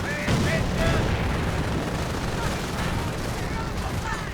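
Video game battle with a Panzer IV tank and artillery opening fire: a dense, continuous rumble of gunfire and explosions, loud and unbroken throughout.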